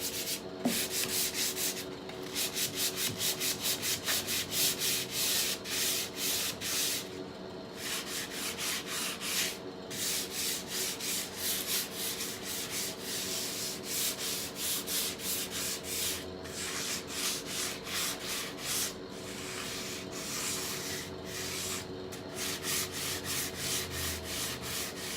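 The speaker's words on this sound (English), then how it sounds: "So my goal here with sanding is to make the look more cohesive." Hand sanding painted wood to weather its finish, a close, steady rhythmic scraping of quick back-and-forth strokes, with brief pauses between passes.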